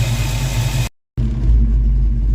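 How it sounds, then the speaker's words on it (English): Close, steady idle of a carbureted Ford Mustang V8 running a QFT Slayer 750 carburetor, a loud even rumble with a brief cut partway through. "Idling like a champ."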